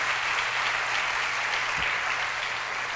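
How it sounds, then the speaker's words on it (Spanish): A church congregation applauds loudly at a Spanish-language sermon service, dense steady clapping filling the room without a break. "Apláudale fuerte al Señor"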